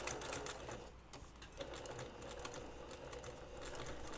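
Sewing machine stitching over the top of fabric: a fast, steady mechanical whirr and patter that continues throughout at a fairly low level, with no voices.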